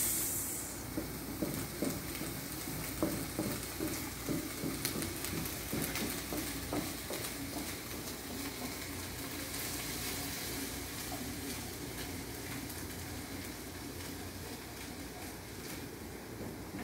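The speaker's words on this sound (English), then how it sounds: "Look, our butter is starting melting" Butter melting in a pan in a cooking class kitchen, giving a soft steady sizzle and hiss under faint background clatter and room noise.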